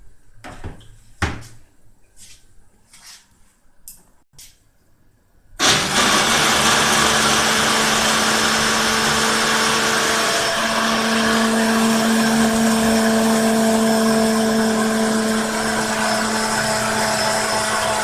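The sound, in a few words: blender blending groundnut paste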